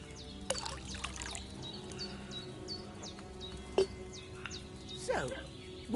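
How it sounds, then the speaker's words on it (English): Liquid base poured into a cauldron in the video game Kingdom Come Deliverance 2, a faint trickling pour under birdsong and insect ambience, with brief splashes near the end. "First, you have to pour the right base into the cauldron."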